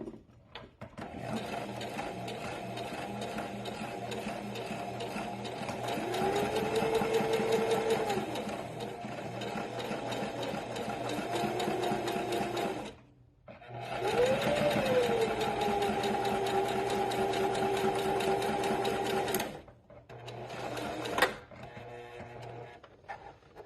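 Sewing machine stitching fabric bunny ears, a close, steady rapid whirring run that stops briefly, resumes for several seconds, then ends with a few short bursts.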